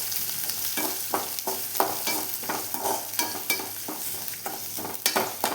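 Onion and dried red chillies frying in hot oil for a Tamil kothavarangai (cluster bean) poriyal, a steady close sizzle broken by regular scraping stirs of a spatula about once a second, with no voices.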